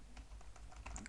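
Quiet computer keyboard typing, a run of light irregular key clicks while math symbols are entered into a notebook, with no talking.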